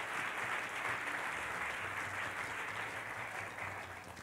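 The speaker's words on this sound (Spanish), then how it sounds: "Dele fuerte ese aplauso al Rey de Reyes y Señor de Señores." A church congregation breaks into sustained, dense applause that fills the room, steady and loud throughout, easing slightly toward the end.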